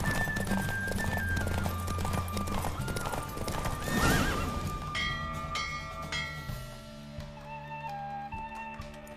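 Galloping horse hooves in The Witcher 3 video game, a rapid, rhythmic clip-clop with a whinny, set against game music and ambient effects. No talk is heard.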